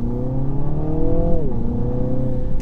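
Engine note of a 2021 Mini Countryman JCW with a Remus straight-through OPF-back exhaust, a steady loud drone heard close, with a pitch drop as the revs change partway through.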